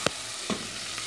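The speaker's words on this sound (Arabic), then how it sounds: "وطبعا هنشوح البصل" Onion sautéing in rendered lamb tail fat gives a steady, moderate sizzle, with a couple of sharp pops and clicks near the start and middle, and no talking.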